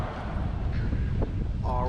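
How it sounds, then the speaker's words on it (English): Gusty outdoor wind buffets the microphone in Hannibal, Missouri, making a continuous low roaring rumble, with a faint voice barely present underneath. "It's a little windy right now, so hopefully you can still hear me."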